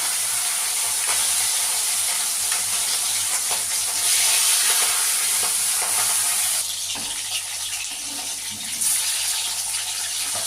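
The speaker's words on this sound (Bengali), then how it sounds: "তেল আমার গরম হয়ে গেছে এবার আমি মাছ একটা একটা করে ছেড়ে দেবো" Rohu fish pieces frying in hot oil in a home kitchen, a loud steady sizzle with crackling bursts and stirring, continuing without speech for the full stretch.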